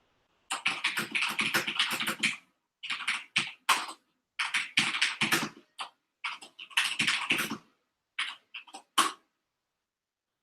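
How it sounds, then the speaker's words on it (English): Rapid bursts of typing on a mechanical computer keyboard, crisp clacking keystrokes in short runs separated by brief pauses, close and clear with no talking. "I have a mechanical keyboard for computer games"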